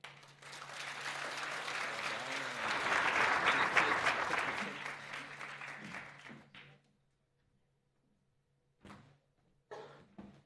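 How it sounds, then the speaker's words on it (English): An audience at a mathematics and science awards ceremony applauds, building to a full, dense round of clapping before it dies away, followed by silence and a few short knocks. "Can we give him a round of applause"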